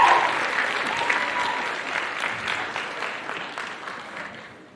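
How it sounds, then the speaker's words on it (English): A crowd applauds performers at a St. Francis Xavier stage show, a broad, continuous wash of clapping that starts strong and slowly fades away. "Another round of applause."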